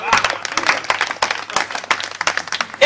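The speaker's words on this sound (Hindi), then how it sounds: "आनंद लीजिएगा और पूरी ऊर्जा के साथ ताली बजाइएगा" Audience at a Hindi comic poetry recital claps rapidly and continuously, a dense, loud patter of many hands that keeps going for the whole stretch.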